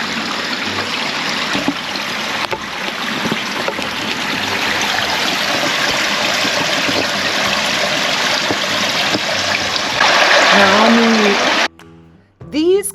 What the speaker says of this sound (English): Listen for the water.